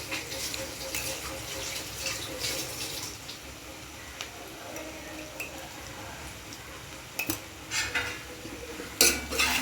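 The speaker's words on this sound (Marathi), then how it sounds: "परत छान एकदा परतून घेऊया." Lemon rice being stirred and sautéed in a pan, with spoon scraping and clinking against the metal in irregular bursts, close and moderately loud, no talking.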